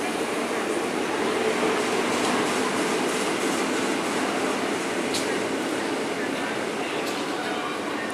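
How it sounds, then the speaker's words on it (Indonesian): An electric commuter train shunts from track 3 toward platform 5 or 6 at Tanah Abang station, Jakarta, rumbling and hissing steadily nearby, wheels clattering softly on the rails with faint screeches, and a voice speaking underneath. "KRL di jalur 3 persiapan langsir menuju peron 5 atau 6"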